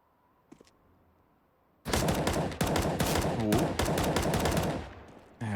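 Desert Eagle and Glock pistols fire in a professional CS:GO match on the Nuke map. A quiet stretch gives way to a loud, dense burst of rapid, overlapping shots and clattering impacts lasting several seconds.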